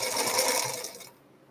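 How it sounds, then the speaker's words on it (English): A sewing machine stitching, a fast close whirring burst of needle strokes lasting about a second before stopping. "I'm only going to sew 3 more"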